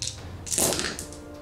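Dice rolled across a tabletop wargame table during an Adeptus Mechanicus versus White Scars battle: a short cluster of clattering taps and knocks, close by, fading out quickly.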